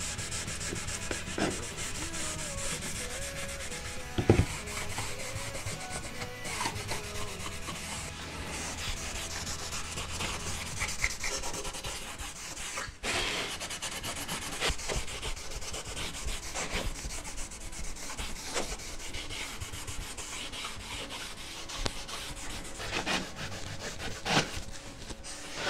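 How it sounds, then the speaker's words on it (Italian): Cotton cloth rubbed energetically along the grain of waxed, oil-finished wood, buffing off excess wax with a continuous scratchy friction, close and steady, broken by occasional knocks and pauses. "Con un panno in cotone, in questo caso, seguendo la venatura, energicamente comincio a strofinare."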